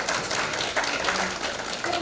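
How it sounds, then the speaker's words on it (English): Attendees at a seminar on appropriate technology and environment applaud their speakers, a steady wash of many hands clapping at moderate volume, somewhat distant and even throughout. "let's give a round of applause for our great speakers"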